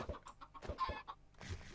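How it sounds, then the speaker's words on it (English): Minecraft chickens clucking in short, separate bursts on a game chicken farm, moderately close with quiet pauses between calls. "so I have built ourselves the chicken farm"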